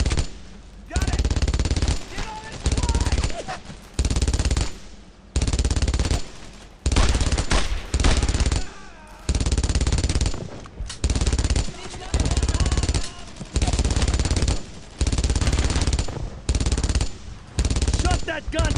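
Enemy machine gun fire rattles in loud, sustained bursts with short gaps between them on a World War II battlefield in the Brothers in Arms video game.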